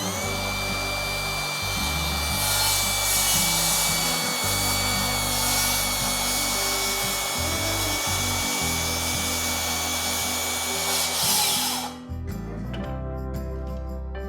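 A power saw makes a miter cut through a wooden board with the blade untilted, a loud, continuous whining cut lasting about twelve seconds before the blade quickly winds down.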